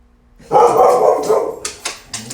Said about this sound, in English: She's barking at the peacocks.